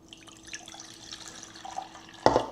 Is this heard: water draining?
yes